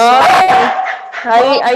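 Dogs bark and yip excitedly indoors, loud and close, in overlapping strained barks with whiny tones, mixed with a person's voice.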